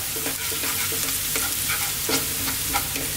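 Garlic and ginger sizzle steadily in hot oil in a wok for a chicken mushroom stir fry, with repeated scraping stirs of a utensil across the pan, close and continuous with no talk.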